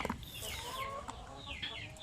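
Native chickens at feeding time on a small farm cluck and call faintly in a quiet yard, with scattered soft clucks and brief higher calls, no talking.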